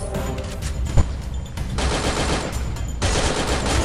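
Gunfire in the video game Free Fire, close and loud bursts of rapid automatic fire in several long volleys, with a brief pause between bursts and no talking.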